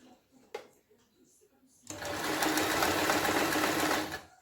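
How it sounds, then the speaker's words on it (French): A sewing machine stitches fabric for homemade makeup remover wipes, starting after a few soft handling sounds and then running in a steady, close, fast whir for about two seconds, with someone speaking French nearby. "C'est juste pas évident de coudre en rond quand on a l'habitude de coudre droit."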